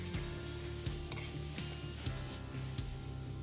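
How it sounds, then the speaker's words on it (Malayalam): Chopped onions sautéing in a pan for Kerala-style chicken dum biryani, a steady low sizzle with repeated stirring scrapes and knocks throughout, close and fairly quiet with no talking. "സവോളയൊക്കെ ഒന്ന് വഴന്ന് വന്നിട്ടുണ്ട്."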